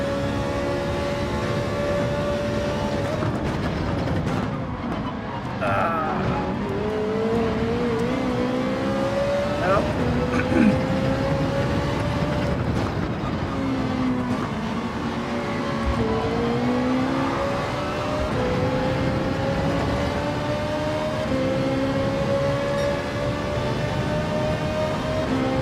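A Ferrari's engine drones and revs in a VR racing game, its pitch climbing and dropping through gear changes, steady and loud throughout with a voice talking over it at times.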